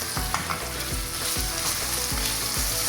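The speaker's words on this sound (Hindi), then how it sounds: "चिकन का कीमा यहाँ पर मैंने शामिल कर लिया है और इसकी हम अच्छे से भुनाई करेंगे चिकन की" Chicken mince fries with onions in a pan: a loud, close sizzle with rhythmic scraping strokes of a spatula about every half second, and no speech.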